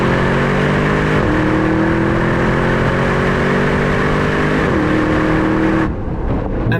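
A 707-horsepower SUV accelerates hard at full throttle, its loud, steady engine roar rising in pitch with two brief dips at gear shifts before easing off near the end.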